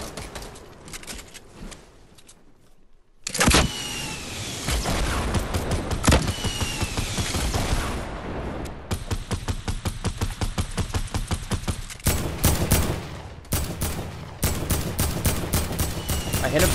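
Gunfire from an RPG-style video game, with bursts of rapid shots and sharp cracks after a quiet opening, plus mechanical clatter; voices are heard faintly in places.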